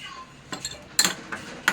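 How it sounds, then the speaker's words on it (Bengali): Paneer is mixed with curd in a bowl: a spoon scrapes and taps against the bowl in a few short, uneven clinks, the loudest near the middle, with no talking. "ভালো করে এটাকে মিশিয়ে নিলাম"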